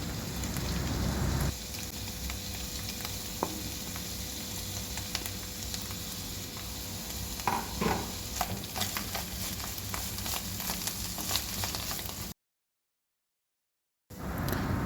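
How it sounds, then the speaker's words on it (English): Onion and garlic frying in a pan for Persian ghorme sabzi stew, with a steady, rain-like crackling sizzle, occasional stirring knocks and scrapes, and a brief silent gap near the end. "Now it's time to add the onion again, a little bit, and garlic, and fry it more."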